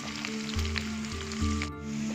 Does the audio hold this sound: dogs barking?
no